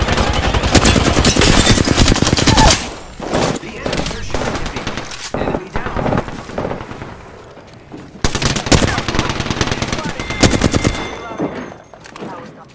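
Sustained automatic gunfire from enemies in a first-person shooter video game, loud dense bursts that pause briefly, resume, then fade, with short gaps between volleys.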